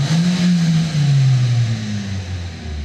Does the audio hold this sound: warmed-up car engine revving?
yes